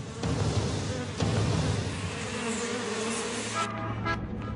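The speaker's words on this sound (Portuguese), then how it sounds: "São os enormes enxames de gafanhotos que circulam sobre a cidade, querendo devorar tudo o que encontram." Huge swarms of locusts circling over a city make a dense, loud, continuous droning buzz that fills the sound, with a slight shift in texture near the end.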